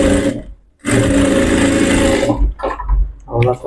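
A sewing machine stitching a blouse runs loud and close in a steady mechanical whir, with a brief pause, then a long continuous run and shorter bursts.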